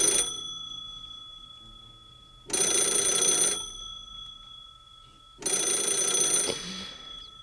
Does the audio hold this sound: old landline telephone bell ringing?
yes